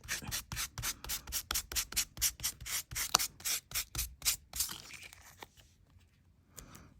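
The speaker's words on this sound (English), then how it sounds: "You can also just buff it now." Dried metal tape artwork is buffed with a brush in rapid, even back-and-forth rubbing strokes, about fifteen close scrubbing passes, then slowing and fading into a few light brushes.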